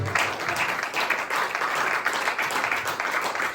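A church congregation clapping together in a steady, continuous round of applause, moderately loud and filling the room, with no voices on top.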